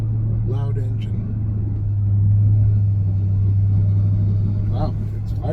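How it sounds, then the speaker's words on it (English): A loud engine on another car close by, heard from inside a car, drones as a steady low rumble through the whole stretch, swelling slightly midway, with faint voice sounds on top. "there's somebody with a loud engine"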